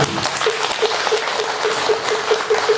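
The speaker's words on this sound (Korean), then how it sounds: "감사의 큰 박수 다시 한번 올리겠습니다" A dense, loud burst of applause fills a hall after a Buddhist monk's Dharma talk, many hands clapping together for about three seconds with no voices over it.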